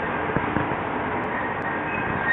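A train rumbles steadily at a platform of Chitose Station, Japan, where Rapid Airport trains depart, a low continuous rolling drone with a couple of soft clanks, close by and fairly even throughout, in rain.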